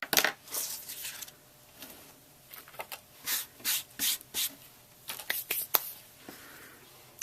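A butterfly die for a card is run through a die-cutting machine, producing a series of scraping, rubbing bursts and soft crunching passes, close and fairly quiet with no voices.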